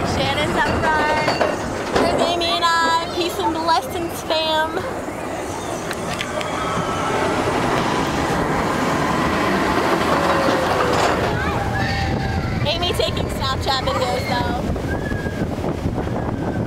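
The Expedition Everest roller coaster at Disney's Animal Kingdom rumbles loudly, with a continuous rushing roar and wind buffeting the microphone. Riders' voices and shouts rise over the noise at the start and again near the end.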